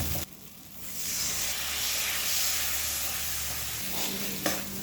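Turmeric and spices for a thin snakehead fish curry sautéing over a low flame, a steady close sizzle with soft scraping stirs and a brief clink near the end.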